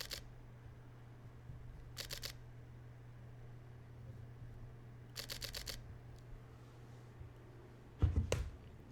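A new Fujifilm X-T4 camera fires its shutter in short bursts, quiet rapid clicks in groups of three or four, spaced apart over a low steady hum, with a louder handling knock near the end.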